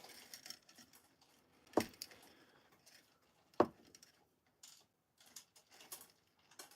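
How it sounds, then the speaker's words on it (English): Two sharp mechanical clunks, a couple of seconds apart, stand out over faint intermittent clicking and whirring from an automatic cat feeder running. "And that's my cat feeder that you hear."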